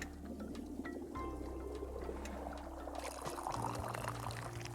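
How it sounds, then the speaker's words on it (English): Tea pours from a pot in the tea-shop video game Wanderstop, a soft, continuous liquid stream that runs for several seconds at moderate volume with no talk over it. "Let me pour the rest of this."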